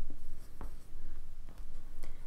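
A brush paints watercolour on paper while a stem is laid into a garden painting, giving soft, close scratchy strokes with a few brief dabs.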